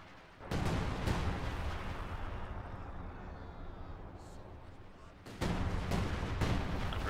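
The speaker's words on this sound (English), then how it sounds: "There we go, artillery shots straight into the center." An artillery barrage in Company of Heroes 2 during a 4v4 battle on Hill 331, a loud continuous roar of booming shell fire that dips briefly and then surges back in heavy, dense blasts.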